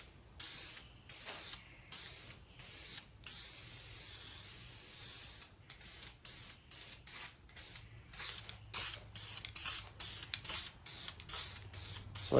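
Short bursts of spray primer from an aerosol can onto a BMW E46 hood hiss repeatedly with brief pauses between them, close by, with faint clicks of the nozzle, in a closed area.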